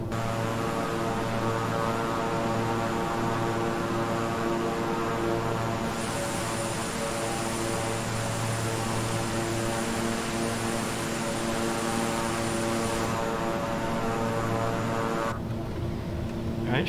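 A twin-engine King Air 350i turboprop drones steadily in Microsoft Flight Simulator, a continuous loud engine hum with strong tonal harmonics that shifts in pitch partway through as the throttle is eased back, then cuts abruptly near the end.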